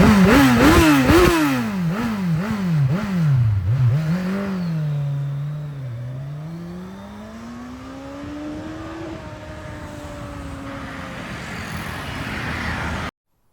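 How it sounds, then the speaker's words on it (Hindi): A motorcycle engine revs hard with repeated throttle blips, then settles into a rising steady drone, loud and close throughout with no talking. "फ्रैंक भाई देंगे हमारे लिए थ्रॉटल"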